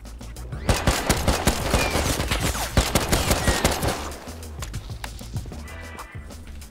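Distant AK rifle gunfire in the video game Rust, heard as dense, rapid bursts of automatic shots with a busy, crackling texture. The firing is steady for about four seconds, then thins out toward the end.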